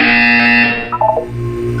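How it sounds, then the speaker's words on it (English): A loud, harsh electronic buzzer in Portal 2 blares for under a second, followed by a short warbling tone and a low hum. "When you hear the buzzer, look up at the ceiling."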